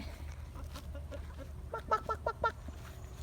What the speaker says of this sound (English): That big old chicken is a rooster.